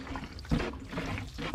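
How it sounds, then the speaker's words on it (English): Water poured from a watering can onto seedlings in a seed-starting tray, a steady splashing trickle with a brief louder gush midway, close and moderately loud with no talking. "You can also use a watering can like this"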